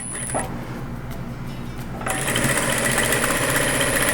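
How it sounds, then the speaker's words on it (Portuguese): A sewing machine stitches a seam joining patchwork block pieces, running as a steady mechanical whir that grows louder and busier midway, with no talking. "E passo outra costura."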